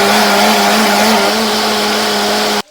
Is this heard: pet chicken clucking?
no